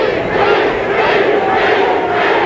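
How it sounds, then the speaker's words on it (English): Boxing arena crowd in Sacramento roaring continuously at a loud, steady level, a dense wash of cheering voices with no gaps, sitting behind the fight broadcast. "You can hear that crowd from Sacramento roaring in the background."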